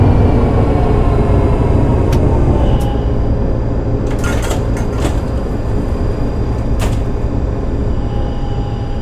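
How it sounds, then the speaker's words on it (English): Tram doors in TramSim Munich slide open and shut a few times, heard as brief hissing swishes around the middle of the clip over a steady, loud low rumble of the tram running, with no one talking. "heard those doors opening and closing really clearly as if they were on my tram, which they weren't"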